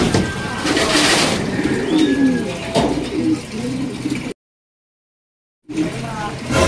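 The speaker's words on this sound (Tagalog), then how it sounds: "papakawala na tayo ng kalapate" Pigeons coo in soft, repeated low calls close by, with fluttering and background voices, broken by a brief gap of silence before the cooing resumes.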